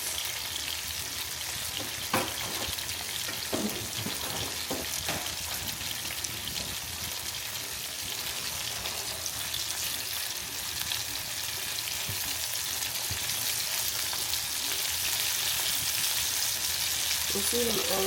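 Meat and onions frying in a pot, a steady loud sizzle that holds throughout, with occasional stirring clinks and scrapes close by.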